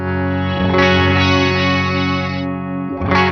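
Electric guitar through a pedal set for delay with a wah effect, a sustained sweeping tone with echoing repeats that swells and fades, then a fresh strum near the end.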